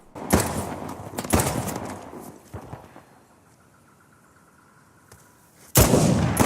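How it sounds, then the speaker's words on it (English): Sniper rifle shots in the video game Uncharted, played on Crushing difficulty: three loud, sharp blasts, two close together near the start and one near the end, each trailing off into a rumbling tail, with a quiet lull between. "And now we're just sniping these fools to finish out this area."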